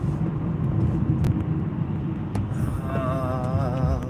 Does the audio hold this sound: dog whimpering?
no